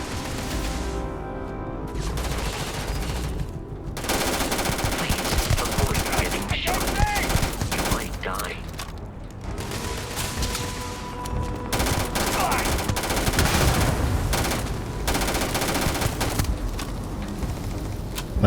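Rapid automatic gunfire in the sci-fi video game Starfield, dense continuous bursts with brief gaps and sharp impacts, loud and close throughout, with occasional speech mixed in.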